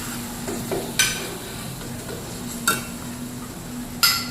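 Spices — chilli powder, turmeric, coriander-cumin powder — stirred and mixed in a pan for pav bhaji masala, with a steady low sizzle and a few sharp scrapes of the spoon against metal spaced a second or two apart.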